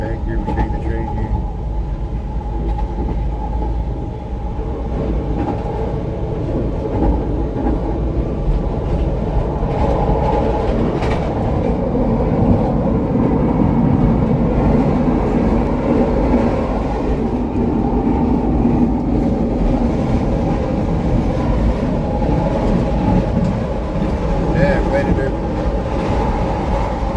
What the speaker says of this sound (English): We take the train here.